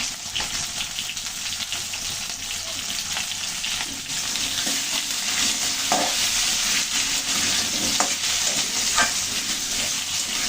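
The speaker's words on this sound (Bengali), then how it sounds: "আমি আলুগুলো ভালো করে ভেজে নেবো লাল লাল করে" New potatoes frying in oil with turmeric, a continuous close sizzle and hiss broken by scraping stirs and clinks of the spatula, with no voices.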